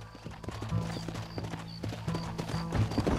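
Horse hooves clip-clop in a steady rhythmic gait in the Red Dead Redemption video game, close and moderately loud over a low background rumble, with no one talking.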